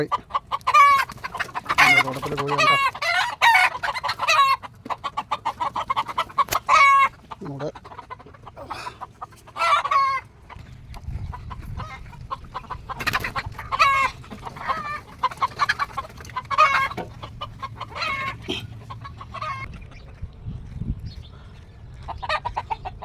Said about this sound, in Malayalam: കോഴിയാണ്